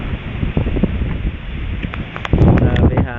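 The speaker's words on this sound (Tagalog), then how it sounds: "Grabe hangin ngayon." Strong wind across an open polo field buffets the microphone with low, gusty rumbling and rustling, rising into a louder blast toward the end, with some talk in the background.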